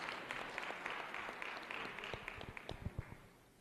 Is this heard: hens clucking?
no